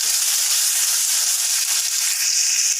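Tomatoes with dried chili and ginger fry in hot oil in a kadai for a paneer masala, giving a steady bright sizzle that runs close and unbroken with no talking.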